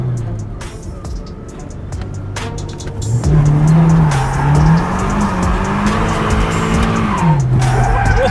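Nissan Skyline R32 GTR engine and tires during a handbrake drift, the car running loud and close before a long rising tire squeal and skid takes over about midway, with engine tone weaving underneath and voices faintly in the background.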